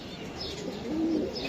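A female racing pigeon coos softly at close range, a low warbling call with faint chirps and rustling in the background.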